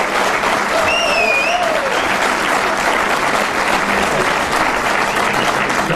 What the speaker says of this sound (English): Applause for this little girl here